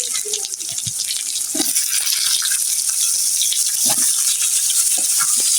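Onions with chopped green chili and salt sizzle in a pan for a bitter gourd fry, a steady bright hiss with occasional scraping stirs and soft clinks, close and continuous.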